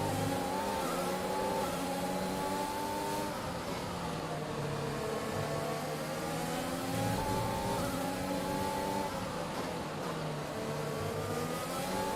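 An F1 car engine in F1 2021 howls continuously at high revs, rising and falling through gear changes, loud and up close with no pauses over the whole stretch.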